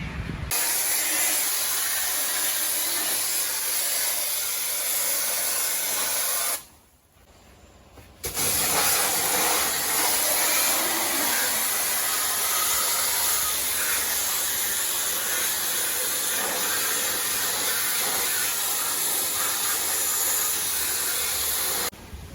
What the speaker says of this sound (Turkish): Sulu kumlamaya geldik